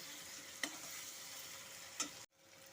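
Potatoes and jackfruit seeds sautéed with ground spice paste and green chilli in a pan, a steady close sizzle broken by two sharp spoon scrapes, then a brief cut and softer frying.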